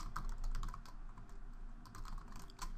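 Steady typing on a computer keyboard, a quiet close run of soft key clicks with no talking.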